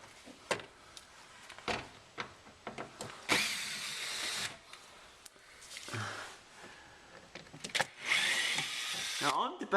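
Range Rover L405 rear bumper screws are backed out with a power screwdriver, giving short bursts of whirring motor among clicks and handling noises, with people talking intermittently.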